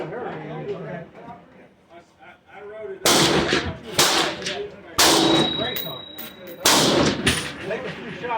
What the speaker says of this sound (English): I'm gonna go ahead and shoot a 5-shot grouping.